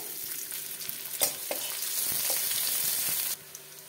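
Chopped onion frying in oil with a bay leaf in a pan for a Bengali cauliflower, potato and katla fish curry, a steady broadband sizzle with a few sharp crackles and stirring clicks, no voices.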